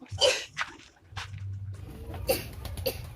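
A few short, harsh coughs close by, separated by brief pauses, with faint background noise.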